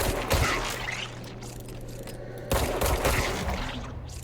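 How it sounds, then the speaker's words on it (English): Rapid gunfire bursts fired at nodes in the video game Control, two bursts of sharp shots, close and fairly loud, without talk. "I can shoot these nodes as well"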